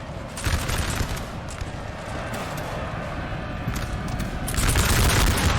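Musket volleys crackle through a Napoleon: Total War battle, a dense, continuous roll of gunfire that swells louder near the end under a steady battle din.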